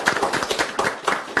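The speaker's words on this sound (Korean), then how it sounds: "이상입니다. 박수." Audience at a 2015 provincial public forum with the governor claps in a short burst of scattered, uneven hand claps, fairly close and loud, with no talking over it.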